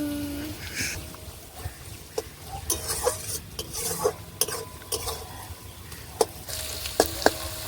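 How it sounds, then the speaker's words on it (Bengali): Onions sizzle and crackle as they fry in a pan for a Bengali chicken chana masala, with steady frying hiss broken by sharp stirring clinks and scrapes of a utensil against the pan, close and fairly loud throughout. "পেঁয়াজটা লাল লাল করে ভাজা হয়ে গেছে"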